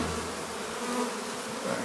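Honey bees swarm during a hive removal in rural Jamaica, a dense, continuous buzzing drone heard close and alone.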